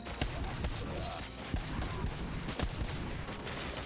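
Rapid gunfire in the Robocop: Rogue City game, with dense bursts of shots and sharp impacts crowding a busy combat mix, loud and close for the whole stretch.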